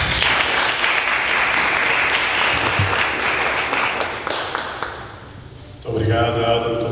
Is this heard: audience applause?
yes